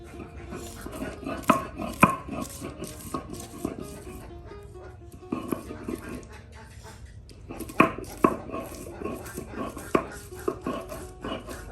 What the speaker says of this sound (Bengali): এখন আপনার পাটায় ফেসা হবে রসুন